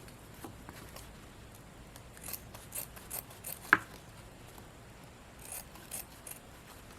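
Scissors make a few quiet, close snips cutting a small V into the end of a craft piece, with soft rustling and handling between the cuts.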